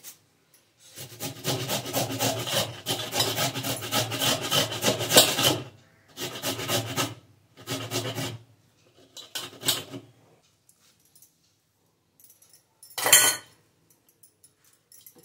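Chopped fenugreek leaves, onion, spring onion and cabbage are rubbed and tossed by hand in a bowl. There is a long stretch of rustling, then several shorter bursts with pauses, ending in one brief clink.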